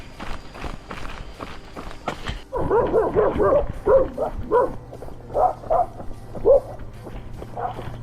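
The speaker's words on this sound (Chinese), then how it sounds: "泰国狗，泰国狗可爱了，它只是想跟你玩" A dog barks repeatedly on a sandy jungle trail in Thailand during a trail-running race, a run of close, loud barks and yips coming in uneven bursts after a brief stretch of footsteps and movement.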